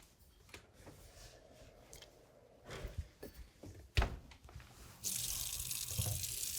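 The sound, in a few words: washing hands under a running tap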